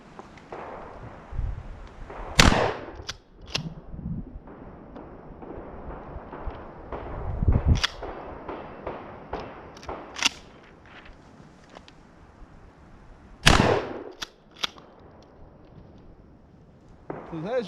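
A Mossberg Shockwave shotgun fires buckshot at a target outdoors, with several sharp, loud reports spread irregularly across the span and quieter handling noises and a speaking voice between shots.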